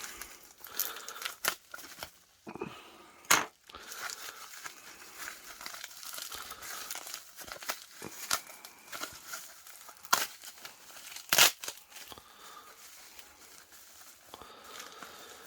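Crinkly wrapping around a small vintage Kaweco gold nib is unwrapped up close, with irregular bursts of crackling and rustling broken by a few sharper tearing crunches and short pauses.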